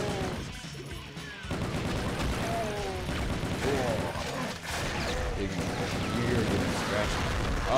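Rapid, continuous gunfire in Brutal Doom roars with rattling shots and heavy booms, loud and dense throughout, while voices talk underneath.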